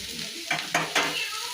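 Chopped onions and grated carrot are stirred in a hot pan, giving a steady close sizzle broken by three sharp scraping strokes of the spatula.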